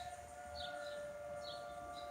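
A tornado siren test sounding as a steady, faint wail from a distance across a neighborhood, with a continuous tone and soft higher rises that could be dogs howling along.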